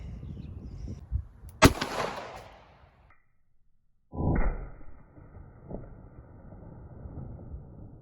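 A single sharp shot from a .38 Special snub-nose revolver firing a standard-pressure 125 grain Hornady XTP round, loud and close outdoors, followed by a brief decay and wind rumble.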